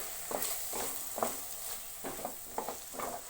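Ground spices and chili powder frying in a pan for Andhra-style prawn fry, soft sizzling broken by repeated scraping stir strokes at a steady rhythm, close and fairly quiet.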